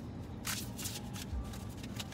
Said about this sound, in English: I'm gonna reshuffle.